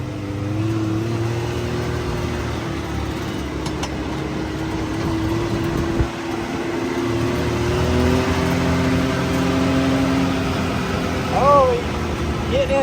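A Can-Am X3 side-by-side runs a parade lap on a tight course, its engine droning steadily and close, swelling slightly near the end, with a brief voice late on.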